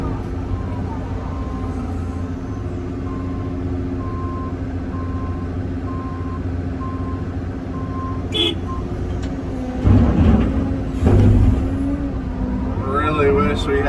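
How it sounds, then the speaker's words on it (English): Dump trucks idle and rumble close by, with a steady run of reversing beeps above the engine noise and louder bursts as the trucks move and arrive. Voices talk in the background. "Dump trucks are back."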